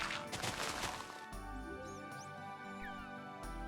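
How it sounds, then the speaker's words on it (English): A dolphin in Minecraft, a video game, gives several short rising squeaks and chirps, close and clear, over a steady layer of game music and ambience after a burst of louder noise at the start. "Stop squeaking at me, dolphin."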